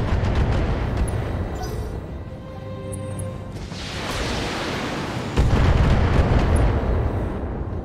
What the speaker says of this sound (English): Okay, he's shooting at us now.